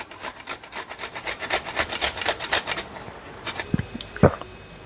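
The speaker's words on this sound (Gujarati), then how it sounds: "હવે આ છીણી નાખું આદું" Fresh ginger scraped on a hand grater while making farali uttapam, a fast run of rhythmic rasping strokes, close and fairly loud, then a few slower scrapes and knocks.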